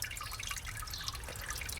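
Water drains from a freshly potted plant into a bucket below, a soft close trickle with scattered light drips over a low steady background.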